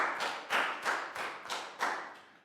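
Applause closing a Year 3 maths lesson, with about seven quick, sharp claps in a steady rhythm, fairly faint and with no voices.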